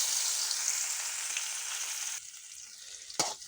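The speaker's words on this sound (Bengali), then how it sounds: "রসুনগুলো হালকা ভেজে নিতে হবে এবং দিয়ে দিচ্ছি" Garlic sizzles lightly in hot oil alongside browned fried fish, a steady close frying hiss that drops off sharply partway through, followed by a brief clatter of stirring.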